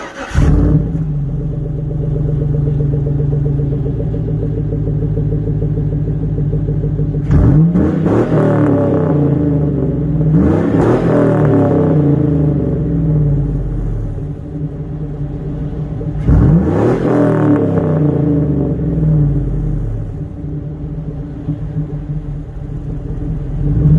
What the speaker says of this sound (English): It's just one single muffler, single exhaust